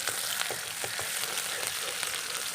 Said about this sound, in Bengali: আমি এই যে আলু ভাজাটা বসাচ্ছি